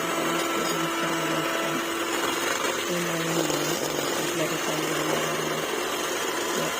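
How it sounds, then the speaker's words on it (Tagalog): An electric mixer beats banana muffin batter with a steady whirring motor hum whose pitch wavers as it works, while a voice talks over it. "start to mix them using the electric mixer"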